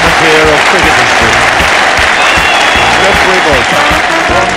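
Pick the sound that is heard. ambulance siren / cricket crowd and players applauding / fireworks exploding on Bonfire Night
cricket crowd and players applauding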